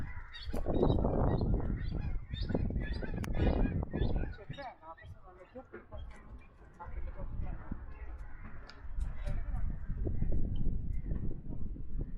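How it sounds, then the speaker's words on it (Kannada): Birds, including ducks, calling and honking outdoors at Sankey Tank lake in Bangalore in the evening, a mix of goose-like honks and squawks, fairly close and continuous over steady background noise. "ಇಲ್ಲಿದೆ ಪಕ್ಷಿಗಳು."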